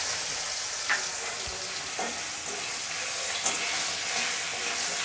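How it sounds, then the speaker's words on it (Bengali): Hilsa fish heads fry in hot oil seasoned with salt and turmeric, a dense, steady sizzle with scattered pops and light stirring clicks, close and loud with no talk. "এখন মাছের মাথাগুলো দিয়ে ভেজে নেব।"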